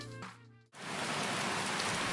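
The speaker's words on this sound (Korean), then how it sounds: "세상을 적시는 빗소리만이 감도는 어느 오후" Steady rain falls on a gray afternoon, a dense, even hiss of drops on surfaces that swells in after a brief dip and holds constant and close.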